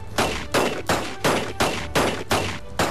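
Rapid bursts of gunfire from a gun in the fantasy video game Magicka, seven loud, evenly spaced sharp shots in a steady rhythm, close and alone with no talk.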